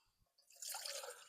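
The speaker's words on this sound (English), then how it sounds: "So we are going to make us a pour over here." Pour-over of Blackout Coffee Brutal Awakening dark roast: faint drips at first, then a steady close trickle and splash of liquid filling the pot.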